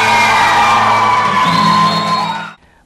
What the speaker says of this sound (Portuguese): A comunidade compareceu e aplaudiram cada apresentação.